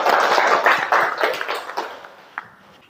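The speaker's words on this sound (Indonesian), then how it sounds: "Beri tepuk tangan untuk Salwa." Students in a class clap for a classmate named Salwa, a brisk burst of many hands that fades out over a few seconds, ending with one last clap.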